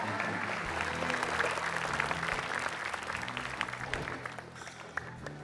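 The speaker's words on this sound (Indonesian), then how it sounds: "Oke, tepuk tangan buat David." Sustained applause from a studio audience on an Indonesian television comedy show, steady dense clapping with faint crowd noise underneath, lasting throughout without a break.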